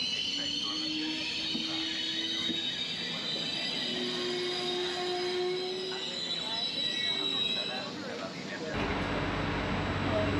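A Trenitalia Cinque Terre Express regional train arrives at a station with high, sustained wheel squeals over a rumbling hum, loud and close, ending in a burst of broadband rushing noise.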